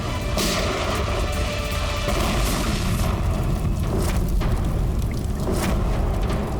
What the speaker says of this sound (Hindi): जैसे बैग से ये नोट बाहर गिरे, बॉम्ब ट्रिगर हो गया।